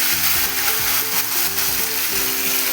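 Cooked dal poured into a hot tempering of cumin, mustard seeds, ginger, garlic, curry leaves, coriander, turmeric and salt, bursting into a loud, dense, close sizzle that holds throughout.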